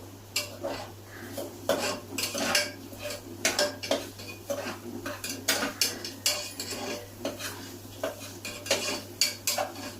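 Onions sautéing with salt in a pan, stirred steadily with a metal spoon: rapid repeated clinks and scrapes over a soft sizzle and a constant low hum.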